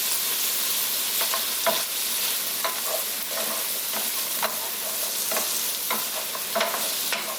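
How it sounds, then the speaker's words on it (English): Onions and other vegetables sizzle steadily in a hot pan for a spaghetti squash stir-fry, with intermittent scraping and clacking as two wooden spoons stir and toss them. "And I get all this sizzling together."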